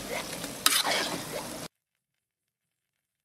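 Minced pork with ginger, garlic and chili sauce fries in oil over medium-low heat, a bubbling sizzle with scraping stirs and one sharp clatter, then cutting off abruptly into silence.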